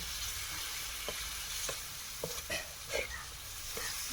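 Clams (kalva) coated in masala fry in a pan with a constant close sizzle, broken by scattered clicks and scrapes of stirring.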